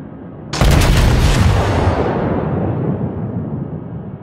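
A single thunderous salvo from the main guns of the Japanese battleship Kongo in World of Warships, a sudden loud blast that rolls into a long, fading rumble.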